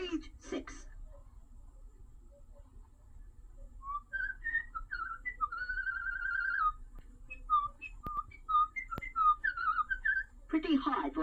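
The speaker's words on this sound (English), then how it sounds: "Pretty hard for a robot to whistle, you know, since I don't even have lips." 1978 Mego 2-XL robot toy playing a whistled melody, a series of clear rising and falling whistled notes in a short tune, with brief speech at the start and end.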